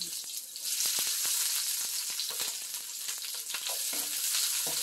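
Garlic and onion fry in a pan, a steady broadband sizzle running the whole time with scattered sharp pops and crackles, close and fairly loud, no talking.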